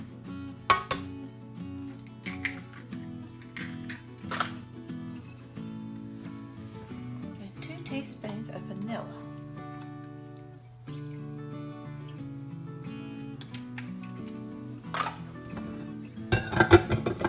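Eggs being mixed into brownie cheesecake batter in a bowl, heard as steady clinks and scrapes of a utensil against the bowl, fairly close and quiet, with a few sharper knocks and no talking.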